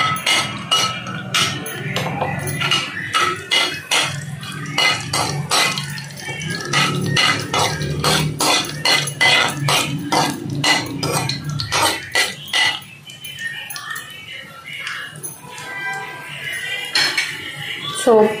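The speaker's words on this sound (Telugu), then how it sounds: "సో వేసుకున్న పప్పులు ఫ్రై అయ్యేంత వరకు మనం వెయిట్ చేయాలండి." Half a tablespoon of urad dal frying in a pan for a brinjal kurma while a metal spoon stirs it: busy close clinks and scrapes against the pan that ease into quieter, sparser sounds near the end.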